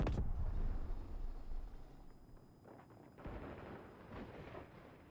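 A single powerful sniper rifle shot in the video game Combat Champions opens with a loud crack, then a long rolling echo decays, with fainter distant battle noise and a softer thump following.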